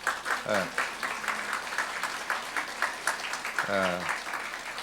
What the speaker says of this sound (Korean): 좀 더 큰 박수로 한번